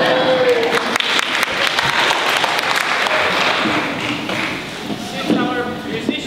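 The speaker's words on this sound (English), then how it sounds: "enthusiastic applause like that," Enthusiastic audience applause at a live music concert, steady and loud throughout, with some crowd voices and whoops mixed in as listeners call for an encore.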